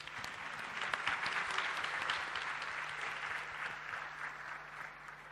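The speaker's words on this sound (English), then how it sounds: "can we have a round of applause for this wonderful panel?" An audience applauds a panel at a machine learning event, a steady, dense round of clapping from a crowd that holds evenly for several seconds without fading much.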